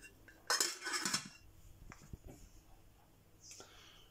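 Camping cooking pots, lids and a kettle clink and clatter together as they are nested, a loud burst of metallic rattling followed by sparser soft knocks and taps, close by.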